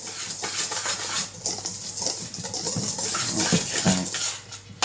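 A whisk beats cake batter in a bowl, a steady rhythmic clatter of wire against the bowl's side running throughout, close and moderately loud with no talking.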